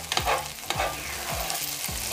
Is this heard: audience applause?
no